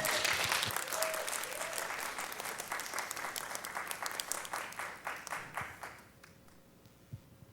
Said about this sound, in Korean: 박수로 환영하도록 합니다.